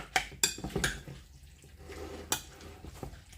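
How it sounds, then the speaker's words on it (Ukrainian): A spoon scrapes and knocks against a bowl while egg and salt filling is stirred, with a few sharp clinks early on and softer, wetter stirring after that, close and without talk. "І гарненько розмішуємо, щоб начинка наша була така ріденька"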